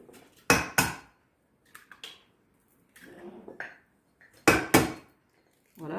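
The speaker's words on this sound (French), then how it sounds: "je casse les œufs" Two eggs cracked against a bowl while making gluten-free bread: two sharp close knocks early, a few lighter taps and shell rustles in the middle, then another pair of crisp cracks near the end.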